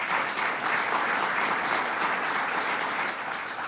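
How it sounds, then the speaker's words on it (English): An audience at a law-signing event for pension reform claps in warm, sustained applause, many hands at a steady level that stays dense for several seconds before easing slightly, with no voices over it. "Let's give them a round of applause."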